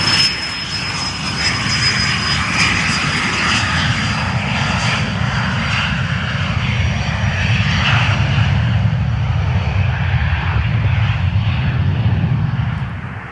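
A small plane's engine drones loudly and steadily near an airport, a continuous roaring hum with a thin high whine, holding constant for over ten seconds before fading slightly at the end.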